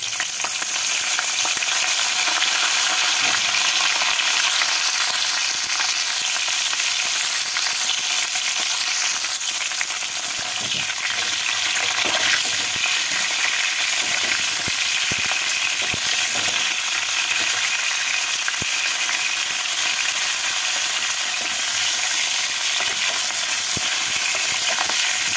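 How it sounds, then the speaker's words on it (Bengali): Cauliflower florets fry in oil left from frying eggs and potatoes, a loud continuous sizzle with frequent stirring scrapes and crackles running unbroken for the whole stretch, no voices. "এই তেলের মধ্যে ফুলকপিগুলোকেও ভেজে নিচ্ছি"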